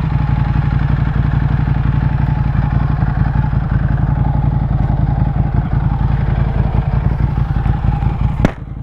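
A motorcycle with a large fairing rumbles at low speed while pulling over, a loud close engine with a fast steady pulsing beat, ending with a sharp clunk as the engine note drops.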